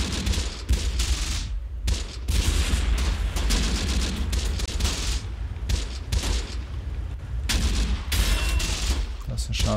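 Sniper and other gunfire in the video game Close Combat: The Bloody First crackle as a dense, continuous fusillade of loud shots and booms, with a few short gaps.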